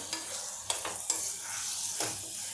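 Drumsticks (moringa pods) fry in oil with spices, giving a steady close sizzle broken by a few scraping stirs of a spatula in the pan. No voices are heard.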